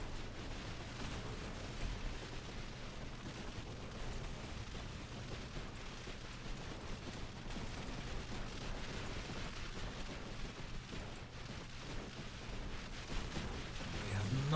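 Mini slugs detonate in the video game Buggos II, a continuous rumbling wash of explosions and bursts layered densely at steady loudness throughout, under game ambience with a speaking voice.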